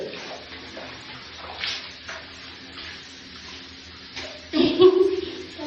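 At a dog's bath, water is splashed and poured over the animal in a quiet room. Soft trickling comes first, then a louder gush of water near the end.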